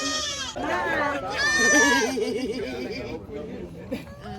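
Goats bleating at an appreciation day event, several wavering, nasal cries close by in the first two seconds, with people chattering and laughing around them.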